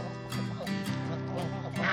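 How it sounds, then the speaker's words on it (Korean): A flock of geese honk and gabble noisily while eating vegetables, overlapping harsh calls close by, continuous across the moment with no talk. "오늘도 거위들은 시끄럽게 야채를 먹고 있다."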